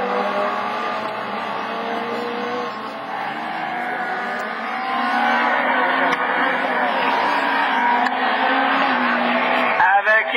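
Super 1600 rallycross race cars at Lessay, engines roaring continuously and swelling louder over the second half, with a crowd or commentary murmur beneath and a sharp transient near the end.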